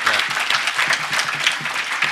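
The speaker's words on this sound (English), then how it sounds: "let's just hear a round of applause for Miloš" Audience applause at The Next HOPE 2010 hacker conference, steady and dense clapping from a large crowd filling the whole clip, close and fairly loud, with a few voices faintly mixed in.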